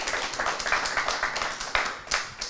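Audience applause at a live Occitan-language show in Béziers: steady, moderately close clapping from a crowd, with a few sharper individual claps standing out near the end.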